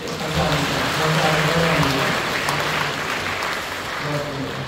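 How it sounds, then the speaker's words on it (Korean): A church congregation at a Korean Full Gospel church service in Incheon claps together, a steady dense crackle of hands that sustains throughout at moderate loudness, with background murmuring or voices mixed underneath. "박수해 주시죠"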